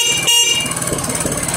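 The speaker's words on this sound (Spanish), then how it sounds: "Primeramente con el claxon." Repaired horn on a motorcycle sounds a loud, steady honk lasting over a second, alone with no talk over it.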